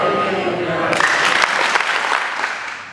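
Audience at an interfaith youth forum clapping hands along to a children's song, a burst of dense, loud clapping that begins abruptly and continues under singing voices.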